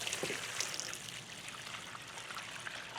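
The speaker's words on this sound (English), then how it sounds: "you can pour this one into another one" Water poured from one plastic seed-starting tray into another, a steady splashing trickle lasting the whole moment, close and fairly soft with no voices.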